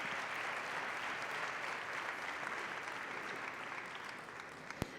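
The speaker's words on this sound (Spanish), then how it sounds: "Lo recibimos con un caluroso aplauso" Warm applause from a conference audience at a round-table session, dense steady clapping filling the whole stretch and fading slightly toward the end, with one sharp louder clap near the close.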